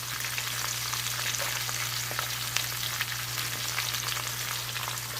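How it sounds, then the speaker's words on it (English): Chicken broth sizzles and crackles steadily as it cooks down in a hot frying pan, a dense bubbling hiss with scattered pops over a low constant hum. "I'm going to put some broth in here, and I'm just going to let it kind of cook down."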